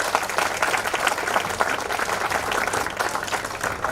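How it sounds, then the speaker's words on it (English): An audience at a Cloud Community Days tech event in Bhopal claps steadily in a dense, sustained round of applause that fills the room for several seconds without a break. "give a huge round of applause for them."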